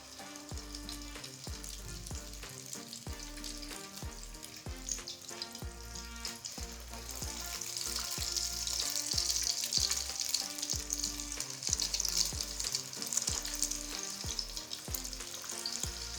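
Egg-dipped spicy chicken wings frying in hot oil, a loud, steady, dense sizzle close by that swells slightly midway, with background music and no speech.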